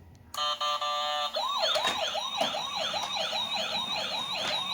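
A toy ambulance with lights beeps its horn in steady tones, then its electronic siren wails in fast, repeating up-and-down sweeps, loud and close.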